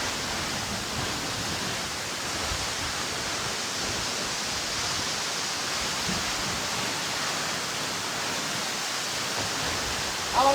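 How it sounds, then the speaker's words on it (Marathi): A monsoon-swollen waterfall near Amboli gives a constant broadband roar of rushing water, steady and unbroken for about ten seconds with no voices. "हा बघा मागे धबधबा."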